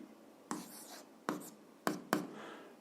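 Physics problem data being written down by hand, heard as four short, close scratching strokes of a pen on paper in quiet surroundings with no talking.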